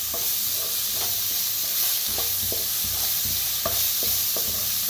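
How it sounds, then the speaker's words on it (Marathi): Ground spice paste roasting with asafoetida in a pan with little oil, a continuous loud sizzle broken by regular spatula strokes scraping and stirring. "आता भाजून घ्यायचा."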